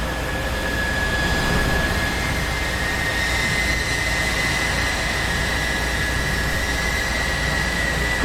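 F-14B Tomcat jet engines roar on an aircraft carrier deck in a flight simulator game, a loud, steady, unbroken rush with a faint high whine running through it and no voices.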